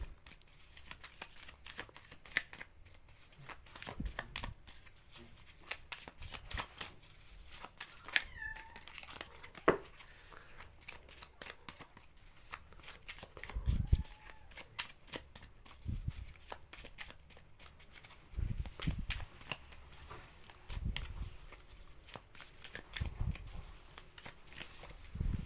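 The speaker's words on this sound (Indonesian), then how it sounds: "Kita shuffle ya." A deck of playing cards being shuffled during a card-reading session, with repeated short riffling bursts and soft rustles coming close and fairly quiet, spread across the stretch with pauses between shuffles.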